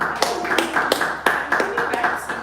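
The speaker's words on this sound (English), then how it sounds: "Round of applause for him," Scattered audience applause at a product launch event, a handful of distinct claps with sharp repeated transients over a low room hum, with voices audible beneath.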